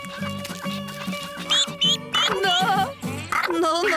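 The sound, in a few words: cartoon duck quacking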